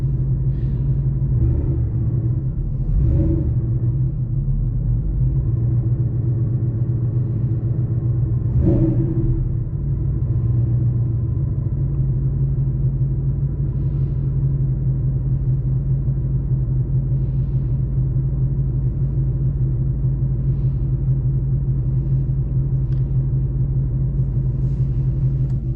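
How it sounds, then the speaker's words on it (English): A Calimer Stage 3 clutch on an MT82 transmission slipping as it is let out slowly, a loud steady low drone and rumble with a few brief rattling bursts early on, close and continuous. "Now this is a friction sound."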